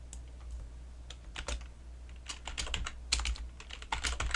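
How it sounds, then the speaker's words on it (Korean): Computer keyboard typing at a desk while entering text in Autodesk Maya 2020: light, irregular key clicks in short bursts at close range, with no talking. "스페이스바를 눌러서 한 칸을 띄운 다음에 쌍따옴표로 입력을 해줍니다"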